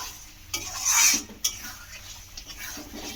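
Fried eggs being stirred into a cooked spice masala in a pan, with a couple of sharp scraping clinks over a faint background sizzle and quieter stirring afterward.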